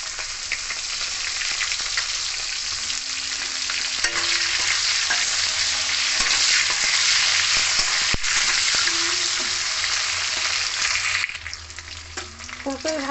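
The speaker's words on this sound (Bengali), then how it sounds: "ফুলকপি ভাজা হয়ে গেছে, পুরো লাল লাল করিনি, সামান্য ভাজবো।" Cauliflower pieces fry in hot oil for a Bengali mixed vegetable curry, a loud, close, continuous sizzle with scraping stirs throughout.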